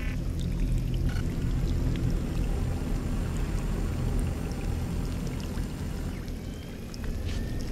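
Water in the video game Scanner Sombre: a continuous dense rushing, pouring wash, steady and moderately loud throughout with only slight easing near the end.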